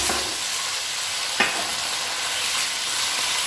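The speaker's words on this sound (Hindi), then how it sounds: "अब चिकन फ्राई हो रहा है" Chicken sizzles steadily in an oily pan, with a constant hiss of frying and one brief clink of a utensil partway through.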